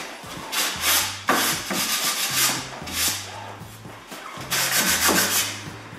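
Fingers rub oil-based paint onto a wooden skirting board in repeated steady strokes, close and dry, with a faint rasping texture.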